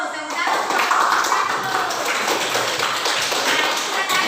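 Students in a classroom applaud after a group presentation, a busy patter of many hands clapping at once, close and lively, sustained without pause.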